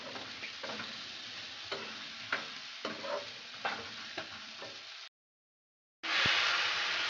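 Drained boiled cabbage stirring in a hot frying pan with turmeric and spices, steady close sizzling broken by repeated spatula scrapes, then a second of silence before a louder burst of frying resumes.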